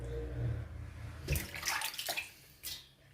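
Water splashes and rushes as raw pork neck is rinsed under running water at a kitchen sink, with a low hum underneath and brief bursts of splashing near the mic.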